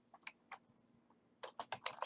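Keys tapped on a computer keyboard while setting up a PowerPoint slide: a few scattered soft clicks, a pause, then a quicker run of five or six louder keystrokes, close and quiet with no talking.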